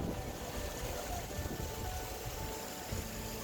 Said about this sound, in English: that's when the wind really picked up